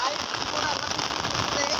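Rain falls steadily at an outdoor picnic, a dense, even hiss of drops on surfaces filling the short stretch without a break.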